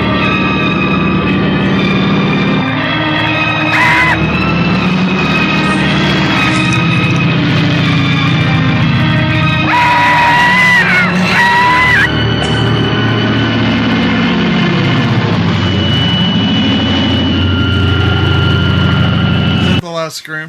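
A small propeller plane engine in a 1977 film drones loudly and continuously, with high-pitched screams bursting out in the middle over the roar.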